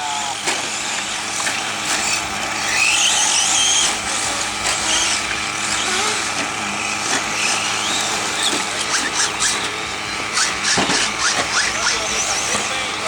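Electric 4x4 RC trucks race on a track, their motors whining and buzzing continuously in the background while an announcer talks over a public address throughout.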